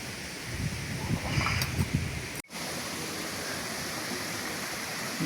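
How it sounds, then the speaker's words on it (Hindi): Cold natural spring water flows steadily from a mountain source in a village in Azad Kashmir, a broad hiss of running water that carries on close by, broken by one brief dropout. "बिल्कुल नेचुरल चश्मे ना पानी है।"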